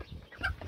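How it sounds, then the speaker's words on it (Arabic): A rooster on a rooftop gives a short, brief cluck or call. It is moderately close but faint. "كتر الديوك يا جماعه في المكان بصراحة بيعمل دوشة وبيضربوا بعض"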